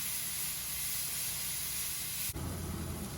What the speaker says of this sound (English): I'm going to put a little salt in there to start sweating the onions.